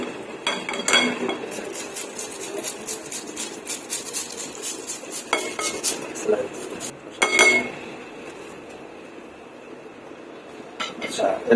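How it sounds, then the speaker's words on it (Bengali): A cucumber is sliced for a rainbow salad, with a knife tapping and clacking against a board in an irregular run of sharp close strokes, mixed with dish and utensil clatter. "তারপর দিব হচ্ছে শসাটা একটু স্লাইস করে দেওয়া হবে।"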